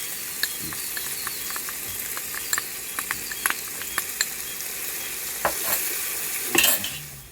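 Jackfruit being stirred in a frying pan for a veg biryani, with a constant close sizzle and frying hiss plus scattered scraping and clinking of the spoon against the pan, no voices.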